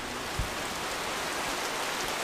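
Heavy rain pouring down outdoors near a house under construction in the woods, a steady dense hiss of drops close by with one brief low thump, no voices.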